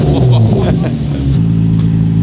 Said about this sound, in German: Gib mal ein bisschen Gas, nur so mit Klappe zu.